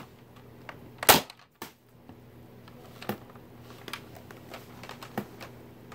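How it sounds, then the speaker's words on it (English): A Nerf Mega Roto Fury blaster fires a dart at a wall with one sharp, loud crack, followed by a softer thud and scattered small clicks and handling noises in a quiet room. "Loading it in the Mega Roto Fury. Alright, it is loaded. There's the dart. I'm going to shoot it"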